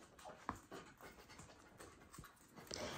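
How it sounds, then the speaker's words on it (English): A chihuahua pants softly and rapidly nearby in a quiet room, with faint scratching or shuffling between the breaths and no talk. "See, I have friendly chihuahuas."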